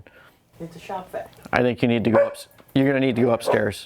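A Labradoodle barks in sharp, repeated bursts indoors while a person talks over and between the barks.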